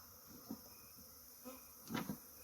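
Honeybees during a beehive cutout, faint buzzing with a few short louder swells as individual bees pass close.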